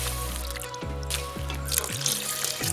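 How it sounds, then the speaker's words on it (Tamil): Water pours into a biryani pot being cooked outdoors in Sri Lanka. A steady stream splashes and trickles, fairly quiet, with faint low clanks in the background. "இப்போ வந்து தண்ணி 2 கப் சேர்த்துக்கலாம்."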